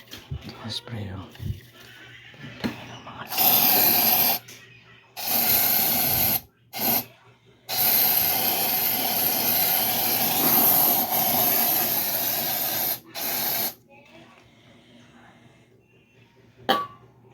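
Loud hissing bursts of spray come in several separate blasts of varying length, with speech heard in between.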